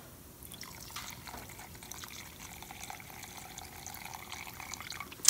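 Paint is poured into a container while being measured for a mix with mineral spirits. The quiet, steady liquid trickle ends with a small knock at the close.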